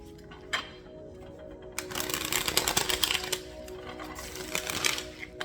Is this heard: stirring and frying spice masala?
no